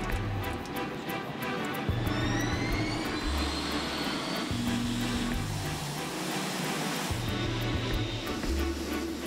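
A Boeing 747-8 Intercontinental jumbo jet on its first takeoff, a loud, steady jet engine roar with rising whine, sustained throughout with rumbling low-end pulses.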